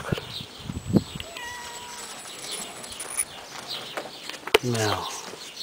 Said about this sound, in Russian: Хорошая кошка.